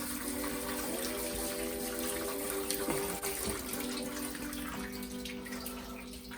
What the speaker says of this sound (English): we're gonna run some really cold water to stop the cooking process